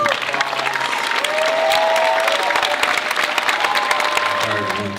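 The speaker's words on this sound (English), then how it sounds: "So now we can start coming up to the stage and give them a round of applause." An audience at a college fund event applauds students on stage, a sustained wash of clapping with scattered cheers and voices, steady and fairly loud.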